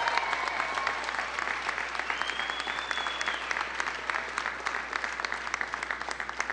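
Applause at an election night speech, a large crowd clapping loudly and continuously for several seconds, dense and even, with some cheering mixed in and no talk.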